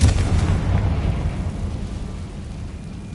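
The Confringo fire spell in the game Hogwarts Legacy lands as a deep, booming blast. A rumbling tail follows and fades over about three seconds, with no talking.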